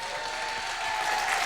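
Steady, dense audience applause at a French music show fills the whole short stretch, a continuous wash of clapping with no talk over it.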